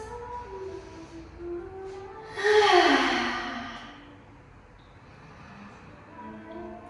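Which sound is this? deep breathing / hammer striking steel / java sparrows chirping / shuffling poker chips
deep breathing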